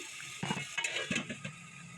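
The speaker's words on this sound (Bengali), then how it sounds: "মশলাটাকে ভালোভাবে কষিয়ে নিতে হবে" Spice paste being stir-fried in a pan for a bottle gourd and hilsa fish curry: a soft, steady sizzle broken by irregular scraping strokes of a spoon, close by and with no talking.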